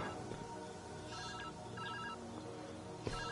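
Telephone ringing in the puzzle game Viewfinder, a few short trilling rings heard at moderate distance over steady background music, ending with a brief click.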